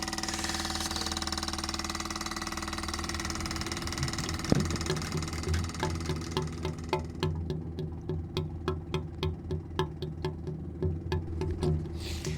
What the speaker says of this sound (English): That's the sound of the air getting sucked into the tank from it coming out.